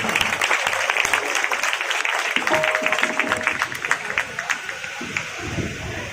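Crowd applause at a Ganesh Mahotsav stage function honoring a guest, sustained clapping with a brief tonal sound in the middle, fading slightly near the end as a voice begins under it.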